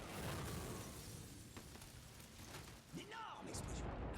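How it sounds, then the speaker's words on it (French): Film set explosion produced by air cannons inside a department store set, a sustained broadband roaring blast with rumbling debris, a brief dip then renewed burst near the end, while people talk over it. "L'explosion que vous venez de voir, donc elle a été générée par des canons à air"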